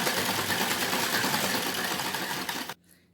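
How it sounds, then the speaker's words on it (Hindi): A sewing machine runs in one continuous fast burst while stitching a salwar seam, a dense whirring buzz that cuts off abruptly near the end, leaving near silence. "अब हमें उल्टी तरफ से इस तरह सिलाई लगा देनी है और डबल इस तरह पूरे किनारे पे लगाते जाना है"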